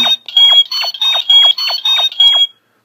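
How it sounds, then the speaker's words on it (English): A Deluxe Legendary Morpher toy gives out a rapid series of electronic beeping pulses, about eight in a row, bright and loud, then cuts off abruptly. "it has the same transformation sounds"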